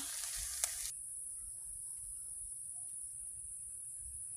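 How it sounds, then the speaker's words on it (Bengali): Fish frying in hot oil, a steady faint sizzle with one sharp pop early on, alone and quiet throughout. "মাছগুলো ভেজে নেব।"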